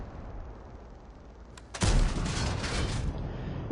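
A 105mm howitzer fires a single heavy shot in a tank video game, a loud broadband boom that holds as a sustained rumbling blast over steady background engine noise.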